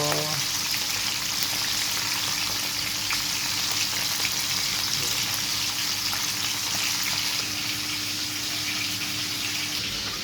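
Fish frying in hot oil, a steady dense sizzle that carries on loud and unbroken throughout.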